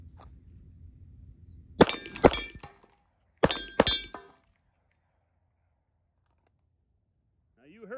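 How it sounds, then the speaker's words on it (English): At a shooting range, four .455 gunshots strike steel targets in two quick pairs, each crack followed by a bright metallic clang, then silence. "Now you heard those rounds go off."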